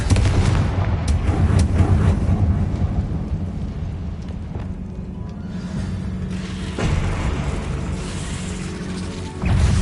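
Confringo explosive spell in the video game Hogwarts Legacy: loud booming blasts and crashing rumble with dense impacts, easing then swelling again near the end.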